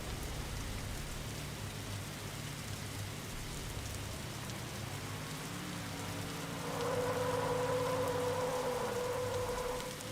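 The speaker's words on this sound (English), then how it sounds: "Smart Coder, he's gonna at least try to burn it down here in the rain" Rain falls during a stock car race at Richmond in a racing video game. It makes a steady, even hiss throughout, and a low engine tone rises and fades beneath it near the end.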